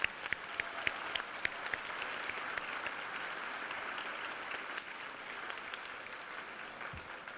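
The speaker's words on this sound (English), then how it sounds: "Let's give him one more round of applause." Applause from the audience at a senior awards assembly, a few crisp nearby claps at the start merging into a steady, moderately quiet patter of clapping that holds and gradually thins.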